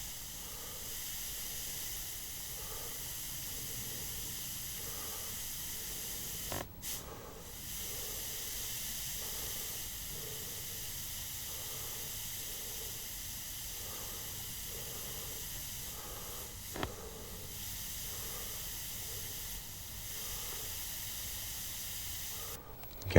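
A micro airbrush sprays paint with a steady, close hiss that runs almost unbroken, interrupted by two brief clicks or pauses as the tip is handled.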